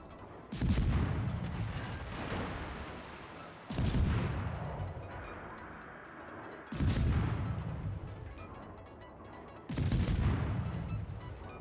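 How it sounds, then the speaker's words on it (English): Naval gunfire in World of Warships, aimed at a US Navy Mahan destroyer: four heavy booming salvos spaced about three seconds apart, each with a sharp crack and long rumbling decay over continuous ocean and engine background. "everybody's shooting at me now"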